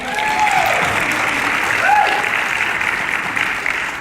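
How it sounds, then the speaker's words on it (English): Sustained audience applause at a Pampered Chef business training event, a dense, even wash of many hands clapping that holds steady for the full four seconds with no voices on top. "Let's give them a round of applause."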